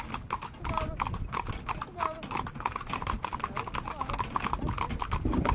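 Hooves of a team of twelve young, green ponies clip-clop steadily along a road, a dense, continuous, close patter of overlapping beats, with a voice talking over them.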